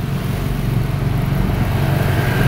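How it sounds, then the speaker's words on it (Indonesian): Dense road traffic on a route near Tegalrejo, Magelang, during Lebaran, dominated by many two-wheeled motorcycles with some cars; a continuous, fairly loud engine drone with passing revs and no pauses. "Banyak motor roda 2."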